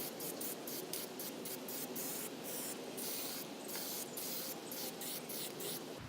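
Aerosol primer sprays onto a car body panel in a steady, continuous hiss, broken by a string of short bursts and brief pauses, close and fairly loud.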